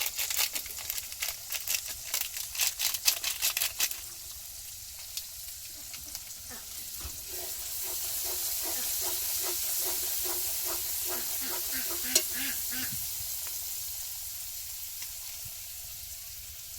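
Kashmiri chili powder is stirred into hot oil in a frying pan for biryani, giving a hissing sizzle with rhythmic scraping strokes of the spatula, loud and busy at first, then a steadier, softer frying hiss.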